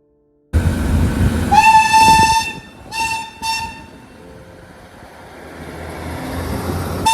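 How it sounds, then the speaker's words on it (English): A Derby train arrives on the Ecclesbourne Valley Railway, its horn sounding one long loud blast and then two shorter ones over the rumble of the approaching train. "And here comes the Derby train,"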